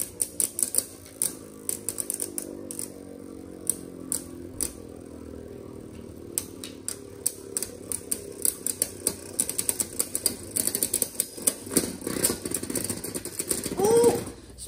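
Beyblade spinning tops, including a 69 Phoenix, launched into a plastic stadium battle, with a dense rattling whir and repeated sharp clacks of collisions, building to a burst of clashes near the end, with voices calling out in between.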